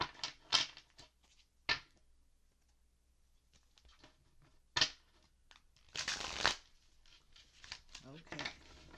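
A deck of cards shuffled in short bursts, with sharp riffling clatters and a louder flurry near the end, between stretches of quiet handling and brief talk.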